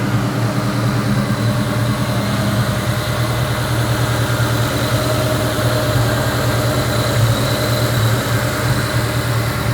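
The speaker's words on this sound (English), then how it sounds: "so it seems to be idling about the same as it was before." A 2003 Ford Mustang SVT Cobra Terminator V8 idles steadily after a spark plug and fuel pressure sensor change, a loud even low rumble close to the microphone throughout.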